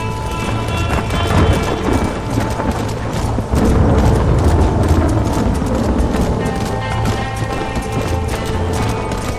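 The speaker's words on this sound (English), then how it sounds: "We have to stop the stampede." Herd of horses stampeding in the Red Dead Redemption video game, a dense, loud rumble of galloping hooves that rolls on continuously with a heavy low thunder.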